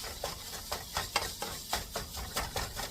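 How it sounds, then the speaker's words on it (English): Spoon or spatula scraping and crumbling a thawed beef mixture in a pan on the stove, a steady rhythm of about ten soft scrapes, close and moderately quiet, with a faint simmer underneath. "We are going to crumble up our beef mixture."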